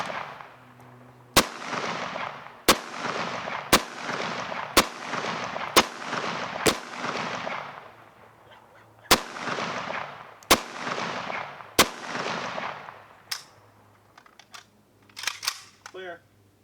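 Rifles fire while plinking at sunset, among them an AR-15 A2, an SKS and an AK-47: about ten loud, sharp single shots spaced roughly a second apart, each with a long echoing tail, followed by fainter clicks and handling noises.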